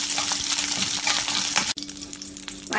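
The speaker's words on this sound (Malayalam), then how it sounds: "ജീരകം ഫ്രൈ ആവുമ്പോൾ ഇതിലേക്ക് രണ്ടോ മൂന്നോ പച്ചമുളകും കുറച്ച് കറിവേപ്പിലി ഇടാം. ഇത് ഇളക്കി വഴറ്റാം." Cumin, green chillies and curry leaves sizzle in hot oil in a pan while being stirred, a steady close crackling fry with a brief clatter midway.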